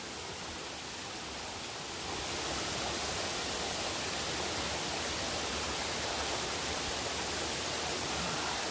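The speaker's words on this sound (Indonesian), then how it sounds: "Air terjun Sing Sing Klesih" The Sing Sing Klesih waterfall in Bali, about 50 to 60 meters high, roars as a loud, dense, steady rush of falling water that swells after the first two seconds and stays constant.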